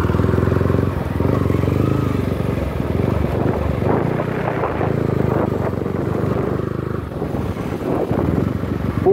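A Yamaha R15 V3 motorcycle engine runs steadily during a ride, a loud continuous drone mixed with heavy wind buffeting on the microphone.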